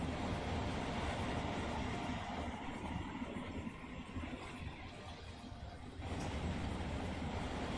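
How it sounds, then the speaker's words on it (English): Freight trains roll through a San Bernardino intersection in the Run 8 train simulator game, with intermodals passing each way and a local blocking the crossing; a steady low rumble and rolling clatter dips briefly midway, then returns. "we got an intermodal going each way and then us on the local blocking the intersection for a while"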